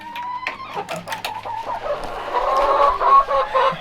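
Several chickens cluck and murmur close by in winter in Michigan, a steady busy chatter with occasional sharper squawks rising over it.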